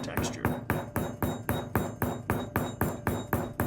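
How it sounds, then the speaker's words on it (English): A texturing hammer strikes copper rose petals in a steady, even rhythm, about four blows a second, each a close, bright metallic tap, with no voices. "I use my texturing hammer to give the roses some texture"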